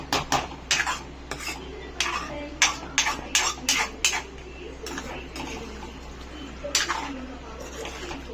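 A spoon stirs chicken and masala in a pot for Chettinadu chicken, making irregular close metallic scrapes and clinks against the pot over a low steady hum.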